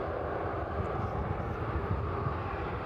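A jet aircraft vacating the runway after landing at East Midlands Airport in the evening, a continuous low engine rumble and roar at moderate distance, steady and even throughout with no speech.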